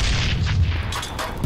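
A grenade blast in Halo 3 multiplayer on the Foundry map: a loud, sustained low rumbling boom that fills the whole short moment, with no talk over it.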